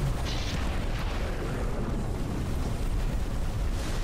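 Missiles firing and exploding in the video game Dogos, a dense, continuous roar of rumbling blasts and bursts at steady loudness throughout, with no talking over it.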